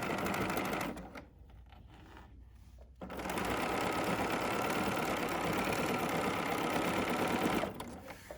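A BERNINA sewing machine stitching and blade-trimming a hem runs in a loud, steady mechanical whir, stops briefly for about two seconds, then runs again at full speed before slowing at the end.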